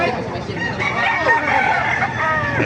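Roosters crowing at a poultry market in Baliwag, Bulacan, a loud drawn-out cock-a-doodle-doo with clucking fowl and crowd murmur around.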